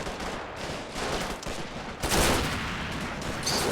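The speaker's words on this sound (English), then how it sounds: "We do got some mortars out." Mortar and gunfire rumble through a World War II-style realism tournament video game match, dense overlapping blasts and crackle rolling continuously, with a sharper, louder burst partway through and no speech.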